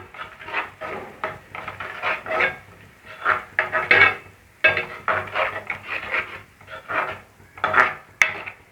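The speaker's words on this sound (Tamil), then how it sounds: "இப்போ நம்ம முந்திரி பேஸ்ட்டை சேர்த்துப்போம் இதையும் நல்லா கிளறி விட்டுப்போம்" Cashew paste is stirred into chicken gravy in a pot, a ladle scraping and knocking against the metal in repeated close strokes with short pauses between them.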